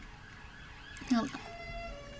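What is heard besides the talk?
emergency vehicle sirens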